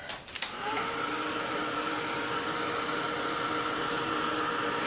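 A dryer blows across freshly embossed, inked card stock in an art-journal session, a steady close whooshing drone that switches on after a brief click and runs evenly to the end without talk.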